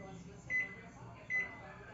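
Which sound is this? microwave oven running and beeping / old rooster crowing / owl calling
microwave oven running and beeping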